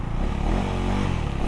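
A KTM Duke 390 motorcycle accelerating hard in a wheelie launch, a loud, dense engine roar that holds steady and close for a brief moment, with no voices.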